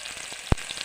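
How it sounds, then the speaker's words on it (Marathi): Spices sautéing in a pan for tamarind kadhi, giving a faint, steady sizzle that is broken by one sharp clack of stirring near the middle. "व्यवस्थित परतून घ्या."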